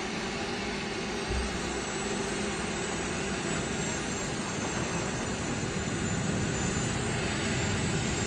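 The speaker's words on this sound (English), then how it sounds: "the legendary de Havilland Vampire" A de Havilland Vampire jet flies at an outdoor air show in Utah, its engine making a loud, steady roar that fills the whole stretch without letup.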